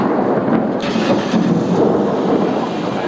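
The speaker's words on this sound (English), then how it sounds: "I want to get that thunder." Thunder rolls as a continuous loud, broad rumble during a summer road trip near a roadside park heading toward Denver, steady throughout with no clear voices.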